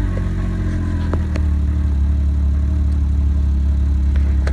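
The engine of a Can-Am Maverick X3 RS side-by-side idles loudly and steadily at close range outdoors at night, a constant low rumble with a few faint clicks.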